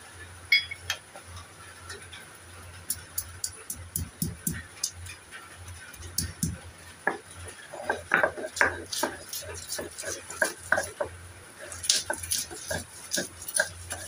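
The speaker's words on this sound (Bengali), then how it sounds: "আদা রসুন কাঁচা লঙ্কা বাটা হয়ে গেছে।" Green chilies, ginger and garlic are ground into paste for a papaya kofta dish, giving irregular knocking and scraping strokes of stone or utensil that come in uneven bursts, with soft background hum and no talk.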